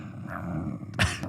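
A person imitates a growl with a low, rough, rumbling voice held for about a second, ending in a short, harsher burst, close to the microphone.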